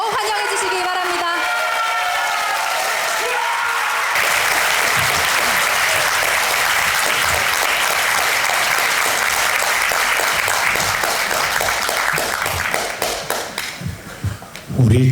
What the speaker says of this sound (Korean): 모두 일어서셔서 큰 박수로 환영해 주시기 바랍니다